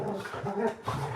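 Dogs whimpering and letting out barks indoors, a fairly continuous run of whines and yips over about a second, mixed with a voice talking.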